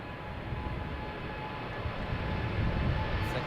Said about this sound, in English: this is American Airlines flight 121 going to Dallas